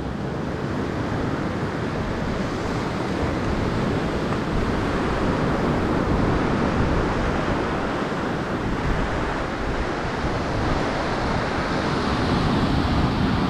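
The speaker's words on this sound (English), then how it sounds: "You can see the wave, look at the height of the wave." High ocean waves roll at Treasure Beach, Jamaica, a steady, broad surf wash mixed with wind buffeting the microphone, continuous throughout with no speech.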